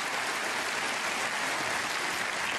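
Sustained, dense applause from a knowledgeable snooker crowd at the German Masters semi-final, saluting a frame ball; an even wall of clapping with no voices audible.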